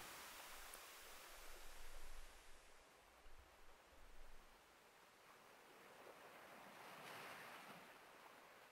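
Ocean waves from the video game Fez wash in a soft, continuous surf ambience with gentle swells rising and fading, quiet and distant, with no voices.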